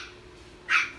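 A single short, sharp dog bark rings out near the end, fairly loud and close, after a quiet background.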